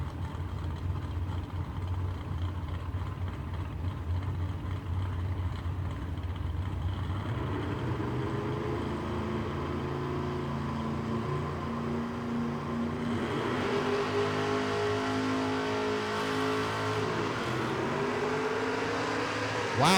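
Drag race at a strip between a Chevrolet Camaro and a Chevrolet Nova, engines rumbling loud and steady, then rising in a harsher roaring launch about halfway through with revs climbing through the run.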